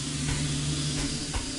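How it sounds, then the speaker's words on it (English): A steam release valve in the stealth game Thief: Deadly Shadows gives off a continuous, even hiss that fills the whole moment without pause. "Like this steam release valve here."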